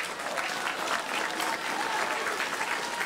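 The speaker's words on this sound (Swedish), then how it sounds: "En applåd till er." An audience applauds a house band, with steady, fairly loud clapping filling the room for a few seconds.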